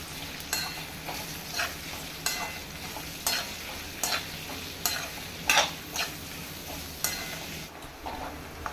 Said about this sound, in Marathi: कांदा घालूया कांदा सुद्धा परतून घेऊया